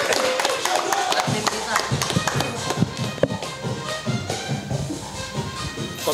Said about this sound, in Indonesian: Ya, tepuk tangan buat Billy.